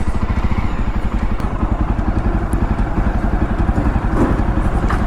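A Jawa Bobber 42 motorcycle with a 335 cc single-cylinder engine runs in second gear, its steady, loud, rapid thumping exhaust pulsing continuously close by throughout.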